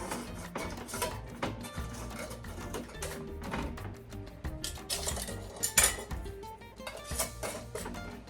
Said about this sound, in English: use my Denali canning rings and put a ring on each one